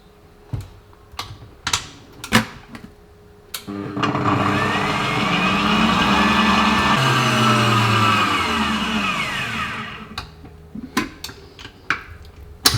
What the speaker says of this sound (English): This time we will be mixing for around 1 minute.